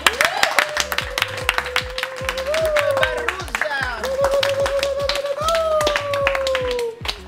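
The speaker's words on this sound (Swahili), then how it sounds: "Tupigeni makofi." A group claps hands at a birthday celebration, a dense run of sharp, fairly close claps continuing throughout, accompanied by a sustained tone that rises and falls over the clapping.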